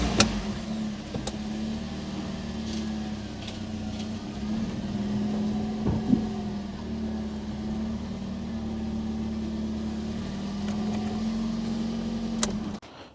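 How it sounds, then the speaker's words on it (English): A Toyota Yaris Mk3 with a 1.33 VVT-i petrol engine idles steadily while reversing off ramps, a low continuous engine hum with a few clicks and a small bump midway before it cuts off at the end. "I'm going to back the car off the ramp now."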